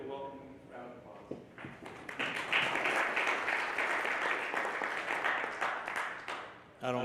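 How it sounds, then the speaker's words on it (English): Applause from a conference audience swells after a brief lull and holds as dense, steady clapping for several seconds, then breaks off at the end as a voice begins. "Please give a welcome round of applause."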